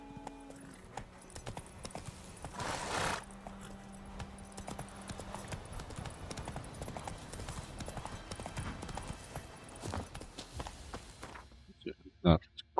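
Horse hooves clip-clopping at a quick gallop in The Witcher 3: Wild Hunt, a steady close rhythm that runs for most of the stretch, with a voice speaking over it and a short sharp vocal burst near the end.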